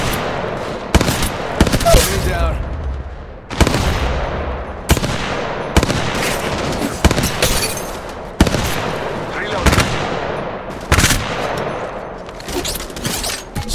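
Rapid bursts of gunfire from the video game Apex Legends Mobile, repeated loud volleys and single shots in quick succession with brief gaps, close and punchy, with game character voice lines mixed in.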